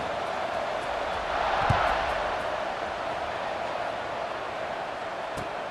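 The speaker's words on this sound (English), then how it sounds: "this crowd now ready to get behind them" Stadium crowd in the video game EA Sports College Football 26 gives a steady, dense roar that swells slightly for a moment before settling back to an even wash of noise.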